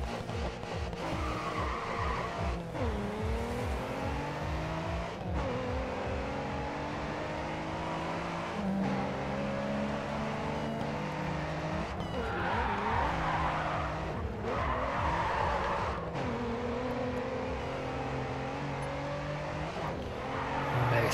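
Race cars in GRID 2 on the cambered roads of Miami skid and squeal their tires while engines rev and shift, repeated screeching slides over a constant engine drone throughout.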